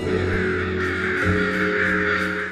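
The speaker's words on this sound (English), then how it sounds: "When they see the bodies of dead crows, sometimes they begin to croak or gather the rest of the birds" Crows croak and caw continuously in a dense flock, several harsh voices overlapping close by and loud, with no talking.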